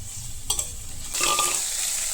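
Black chicken being stir-fried in a pan: a steady sizzle broken by scraping stirs, with the frying swelling louder during the second half.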